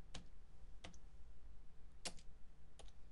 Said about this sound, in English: and then for that we're typing items